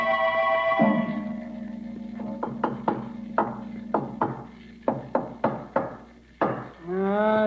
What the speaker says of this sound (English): Yes, Riley, every spot we've tapped seems to be solid stone or concrete.